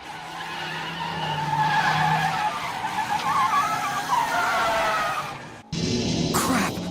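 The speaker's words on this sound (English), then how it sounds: "The back tires are starting to lose their grip." Rear tires of a Toyota 86 skidding and losing grip, a loud sustained squeal over engine roar on a road, building and wavering for several seconds before cutting off briefly and resuming.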